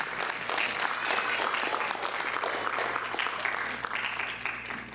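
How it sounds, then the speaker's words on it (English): A Diwali community event audience applauds donors with steady, dense clapping sustained throughout at even volume, filling the hall without pause. "So applause to them, please."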